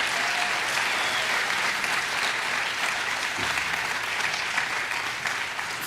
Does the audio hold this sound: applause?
yes